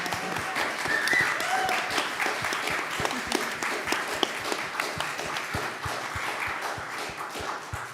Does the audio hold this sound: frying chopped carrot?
no